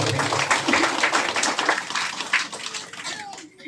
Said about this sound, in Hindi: जोरदार ताली बजा देंगे